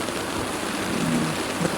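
Heavy rain pours down in a dense, steady hiss with no pauses and no voices.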